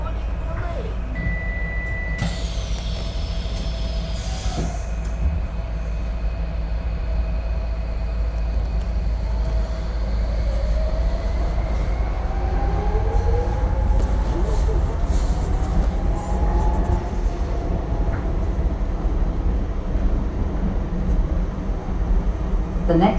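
A DLR light rail train between Canary Wharf and Stratford in London rumbles steadily along the track, with rising and falling motor whine, a chime near the start and occasional clicks over the continuous low roar.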